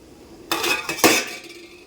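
A lid goes onto a cooking pot of egg curry on a home stove, making two sharp metallic clanks about half a second apart, close and fairly loud, with a faint ring afterward and no talk.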